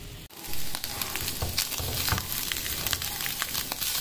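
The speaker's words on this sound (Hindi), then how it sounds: "तो अच्छी तरह मैंने इसे भून लिया।" Chicken lasagna filling sizzles steadily in a hot pan, a dense continuous frying hiss with occasional stirring scrapes, close and fairly loud with no talk.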